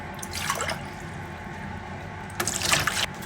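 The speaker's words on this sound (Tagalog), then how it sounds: "At ngayon, tubig naman yung i-measure natin." Water is poured into a measuring container while paratha dough ingredients are prepared in a kitchen, two brief splashing bursts of pouring separated by a quieter pause, close and fairly soft.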